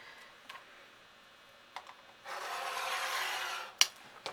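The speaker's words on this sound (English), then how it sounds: "Let's trim that down just a little on this side." Scissors trimming a fabric seam on a pillowcase during sewing: a few faint snips, then a steady, louder rasping cut lasting over a second, followed by a sharp click, close and without speech.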